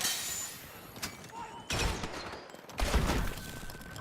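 A grenade goes off in a shooter video game: sharp bursts hit at about one, one and three-quarter, and three seconds, each followed by a crackling, debris-like decay over low game ambience.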